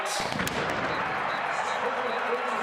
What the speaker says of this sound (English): They fire the cannon for a 24-3 lead.